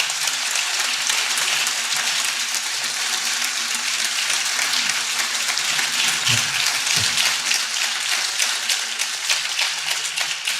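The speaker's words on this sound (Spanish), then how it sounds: "Fuerte aplauso para Pedro, por favor." Sustained applause from a seated audience at a talk on a mathematician's research, dense steady clapping filling the whole stretch at a fairly loud, even level with no speech over it.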